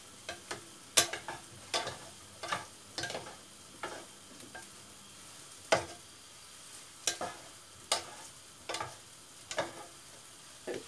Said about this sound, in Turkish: Şöyle en yüksek ateşte biraz yağını içine alacak kadar, hafif de kızaracak kadar şöyle birkaç saniye diyebiliriz.